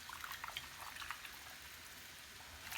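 Boiling water is poured onto rice in a pot, making a faint, steady splashing trickle with small bubbling pops throughout.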